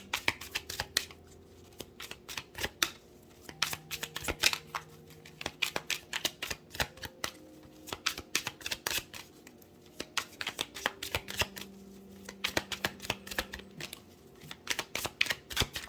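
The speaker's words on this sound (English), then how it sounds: "let's get another shuffle from this deck" A deck of tarot cards is shuffled by hand, with rapid bursts of crisp riffling clicks separated by short pauses, close and fairly quiet, with no talk.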